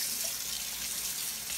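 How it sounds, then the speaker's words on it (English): Tap water runs steadily into a kitchen sink as hands are washed, a constant close hiss with no pauses. "Wash your hands."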